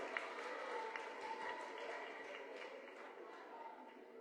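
An audience applauds a contestant at a school competition between Lycée National D. Boukman and Institution Shalom. The clapping is a steady, dense wash that holds evenly from start to end.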